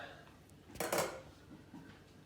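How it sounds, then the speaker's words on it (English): A single faint clatter as lids are placed onto sterilised glass jars for bread and butter pickles, a quick clink and rattle in an otherwise quiet kitchen. "So we're going to put the lids on top of the jars."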